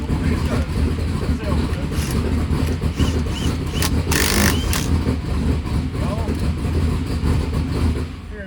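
A 1972 Chevrolet Chevelle, an abandoned car being rescued, cranks and fires up, settling into a loud, rough, uneven idle with bursts of revving close by; some voices are heard alongside.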